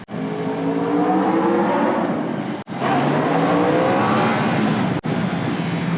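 A high-revving Aprilia RSV4 sport motorcycle with an Akrapovic exhaust roars loudly, rising through the gears with brief cuts between shifts, a raspy sporty exhaust note close to the listener.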